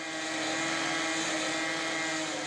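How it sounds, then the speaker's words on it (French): Railway track renewal machines advance along the line between Savenay and Redon, their engines roaring steadily with clanking steel and ballast stones rattling along conveyor belts, a dense, continuous industrial din. "Le tout dans le fracas sonore des moteurs, des chocs de l'acier et des cailloux qui circulent sur les tapis roulants."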